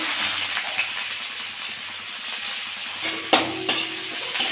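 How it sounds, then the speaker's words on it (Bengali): Chopped garlic, onion and green chili frying in hot oil for veg momo filling, a steady broadband sizzle close by with a few sharp clinks of a utensil against the pan near the end. "তেলটা আমার গরম হয়ে গেছে। রসুন কুচি আর পেঁয়াজ লঙ্কা কুচি দিয়ে দেবো।"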